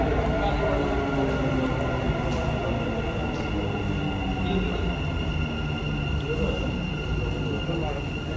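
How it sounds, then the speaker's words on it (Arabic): A metro train arrives at a station, a loud steady rumble of wheels and carriage noise close by with faint squeals, while people talk underneath. "وصل المترو"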